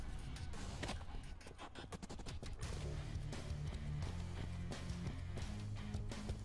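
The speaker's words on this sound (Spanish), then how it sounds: "ahorita se van a oír mis tiros" DMR rifle gunshots in Halo 5, fired as a rapid run of sharp cracks and clatter that stays faint and fairly even throughout, with no talking.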